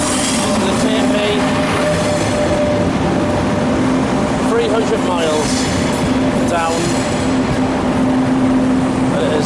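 An Italian passenger train bound for Rome and Naples rolls steadily along the rails, a loud continuous rumble with faint wheel squeals, heard from inside the train while someone talks over it.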